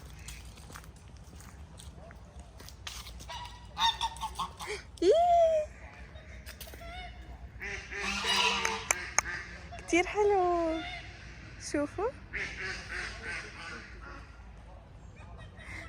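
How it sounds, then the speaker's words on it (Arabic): Ducks or geese on a pond near Anjar castle in Lebanon honk and quack in several short bursts at moderate distance, while people speak over them with footsteps. "يمكن في بط."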